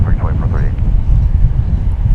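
A British Airways Airbus A380 airliner takes off at DFW Airport, a distant, low, steady roar mixed with wind buffeting, while someone talks over it.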